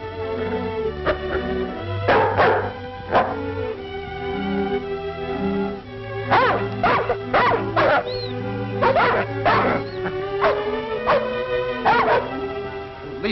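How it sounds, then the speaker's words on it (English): A sled dog team in the Yukon barks, yips and whimpers, several dogs heard fairly close. The barks come in clustered bursts over a steady low background hum. "At least we've got our dog team."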